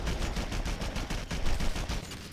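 Rapid automatic gunfire in the shooter Red Faction 2, loud and continuous. Close, clattering bursts overlap with no pauses and no voices.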